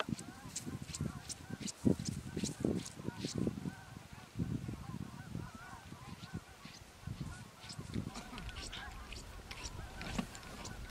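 A flock of geese honks continuously during a dry field goose hunt in Alberta, many overlapping calls near and far, with hunters talking over them.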